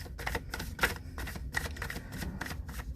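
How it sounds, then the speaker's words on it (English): Oracle of Seven Energies card deck being shuffled by hand, a steady run of soft papery riffles and slaps repeating about every half second, close and fairly loud with no talking. "I'm going to shuffle each deck one by one, of course."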